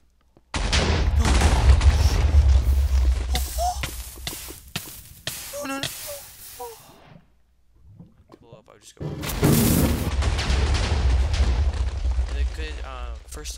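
A trap in Minecraft sets off a large explosion: two long, roaring blasts with crackling debris, separated by a quieter gap, loud and close, with a voice reacting between them.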